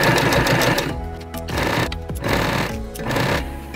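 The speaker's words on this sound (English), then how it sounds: "I'm sewing a zigzag stitch just like before." A sewing machine running a zigzag stitch through stretchy knit fabric for a baby headband bow, a fast mechanical whirring chatter in three bursts separated by short pauses, close and loud with no voices.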